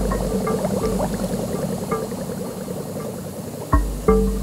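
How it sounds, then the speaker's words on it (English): Air bubbles stream steadily through the water of a hydroponic system in a greenhouse, a continuous soft bubbling and gurgling with a few sharper pops and splashes near the end. "the faint air bubbles are actually giving oxygen to the plants"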